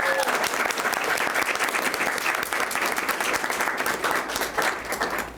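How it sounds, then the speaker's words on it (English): Warm, steady applause from an audience at a governor's news conference on climate change, honoring a student climate strike organizer; dense clapping continues throughout with a few voices underneath. "Let's give Angelique a round of applause."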